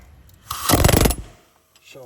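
An air hammer chisels at a tie rod on a 2011 Nissan Rogue during tie rod replacement, giving a loud rapid burst of hammering for about a second before it stops.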